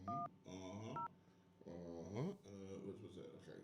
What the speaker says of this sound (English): I'm going to make another phone call.